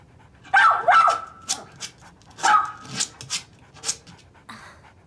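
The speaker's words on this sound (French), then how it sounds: "Arrête d'aboyer." A dog barks in a string of close, loud yelps and woofs, with quick panting breaths between them, a busy irregular rhythm over several seconds with no talking.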